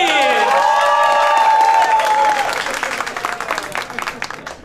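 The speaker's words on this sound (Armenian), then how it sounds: "Եկեք բոլորով ծափահարենք, Հարութին։" Applause and cheering from an audience at a comedy show, starting loud under a sustained tonal sound and thinning out toward the end of the clip.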